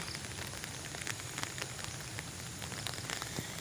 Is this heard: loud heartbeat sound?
no